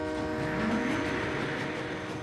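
A cartoon train rumbles steadily along the tracks, a continuous mechanical roar with a rising tonal whine, moderately loud and without voices.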